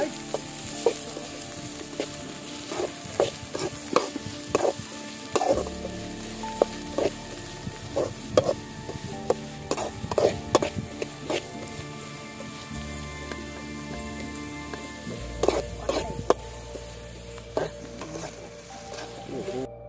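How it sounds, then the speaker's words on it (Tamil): Onions sautéing in oil with fennel seeds in a pan for village-style snail fry, a continuous close sizzle broken by frequent clacking spatula stirs throughout. "வெங்காயம் போட்டு நல்லா வதக்கி"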